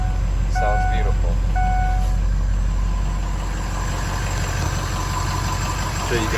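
The turbo diesel engine of a 2006 Ford F250 idles with a steady low rumble and a rhythmic diesel clatter. A faint whine sits over the top.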